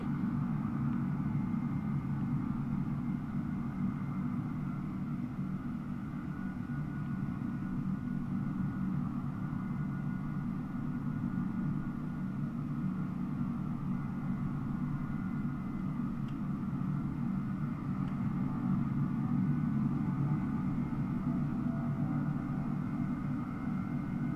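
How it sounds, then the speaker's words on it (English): Airliner taking off in Microsoft Flight Simulator 2020 at Sydney, a steady broad engine rumble and roar that holds for the whole stretch without voices. "Ah, someone just landed. Or is that a takeoff? Yeah, it's a takeoff."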